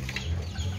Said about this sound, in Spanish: Ahí andan chillando los pollitos, pero no se le alcanzan a ver.